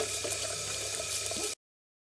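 Tap water runs steadily over aquarium decor being scrubbed free of algae under the faucet, a constant splashing hiss that stops abruptly after about a second and a half.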